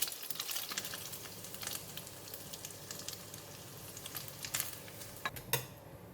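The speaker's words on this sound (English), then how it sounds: "Just to cook it like that, and then I'm going to take it out from the pan as well." Food fries in a pan of oil while mee goreng is cooked with tofu, giving a steady, moderate sizzle with occasional brighter pops and light clinks of a utensil against the pan.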